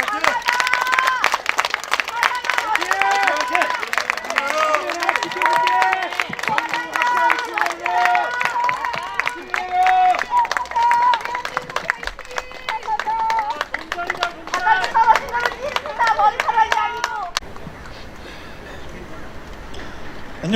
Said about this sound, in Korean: 자, 다 같이 박수 칩시다.